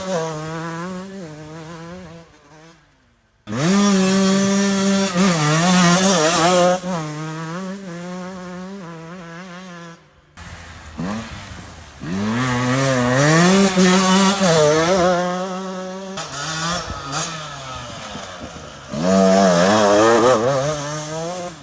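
A Beta 125 two-stroke dirt bike fitted with a 200 flywheel revs hard in loud, raspy bursts that rise and fall across the whole stretch, with brief drops between throttle blips and no talking.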